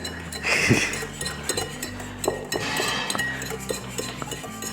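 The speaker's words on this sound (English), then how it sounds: "I'll keep whisking, you add. Whisk away." A whisk scrapes and clinks rhythmically against a bowl of melted chocolate, a close, busy series of light metallic taps and swishes.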